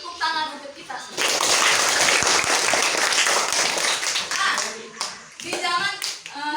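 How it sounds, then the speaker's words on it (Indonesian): Children in a school classroom burst into a loud round of clapping that lasts several seconds. A teacher and kids talk before and after it. "Tepuk tangan untuk kita semua."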